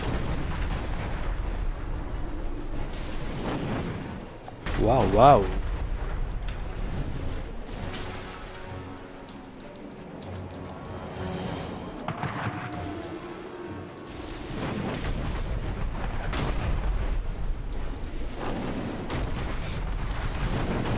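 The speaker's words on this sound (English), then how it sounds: "Look out! The Azonites have cannons sighted on us." Cannon fire from Azonite gunners in Dungeon Siege 3, heavy booming blasts among battle effects and game music, one especially loud hit near the start, with a man exclaiming in Chinese over it.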